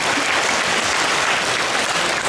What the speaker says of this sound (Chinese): 我们给我们所有的医护同仁来掌声一下